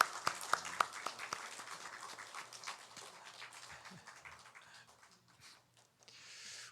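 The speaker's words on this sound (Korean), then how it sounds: "우리 다시 한번 우리 축하의 박수, 격려의 박수 했으면 좋겠습니다" A church congregation claps in celebration and encouragement during a Sunday service: a few sharp, distinct claps open into steady, moderately loud applause that gradually thins out toward the end.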